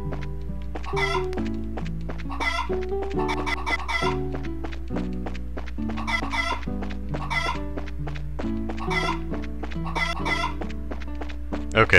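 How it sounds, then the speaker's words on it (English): Chickens cluck repeatedly in the video game Trails in the Sky, short clucks and a brief crow over looping game music with a steady low hum, no talking. "Hi, chickens."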